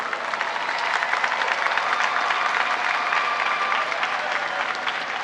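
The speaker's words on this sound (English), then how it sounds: "give them a big round of applause" A large audience at a high school graduation ceremony breaks into steady, dense applause that holds at an even level throughout without anyone speaking over it.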